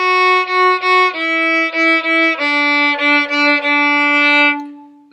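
Violin playing the second half of the second line of Boil the Cabbage, a clear run of short bowed notes stepping down in pitch, evenly paced and close, ending on a held note that fades out.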